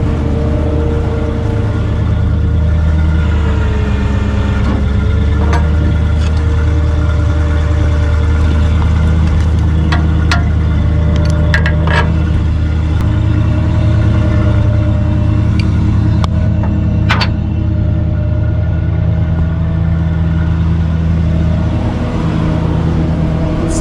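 Tow truck engine idling at a racing shop, a loud, steady, close rumble that carries on throughout with a few light clicks and knocks on top and no talking.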